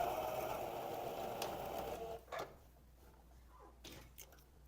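A sewing machine stitches directly over an existing seam on elastic while sewing wide-leg pantalona trousers, a steady close mechanical whir for about two seconds that stops, leaving quiet handling noises and a few faint clicks.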